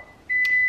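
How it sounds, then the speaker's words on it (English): A cake timer gives a single steady electronic beep, clear and fairly loud against quiet room background. "There's the cake timer."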